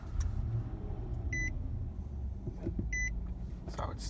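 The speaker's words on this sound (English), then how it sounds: "Let me go ahead and start up the car for you guys." A 2018 Nissan Armada starting from inside the cabin, two soft electronic chimes over a low idling engine rumble, close and quiet.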